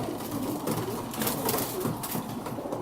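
Roller pigeons give soft, low cooing calls indoors around a loft or cage, a faint continuous murmur of overlapping coos with no talking.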